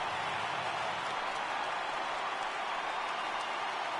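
Dense, steady stadium crowd roar from a baseball game in MLB The Show 18, a broad wash of cheering and clapping from a packed ballpark that holds constant and fills the whole stretch with no gaps.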